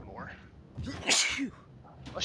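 One sharp sneeze bursts out at moderate distance during a tabletop role-playing game session, with quiet talk around it.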